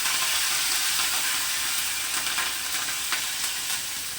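Onions and curry leaves fry in hot oil for a taro and egg tamarind curry, a loud continuous sizzle with a few brief stirring scrapes and no talking.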